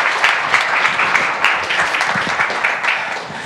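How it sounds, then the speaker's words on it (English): Steady audience applause at an American Cancer Society event, a dense wash of many hands clapping continuously at even volume throughout. "So everyone, please give a round of applause for Dr."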